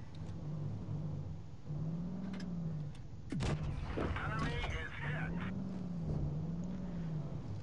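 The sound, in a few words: tank gunfire in the video game World of Tanks Blitz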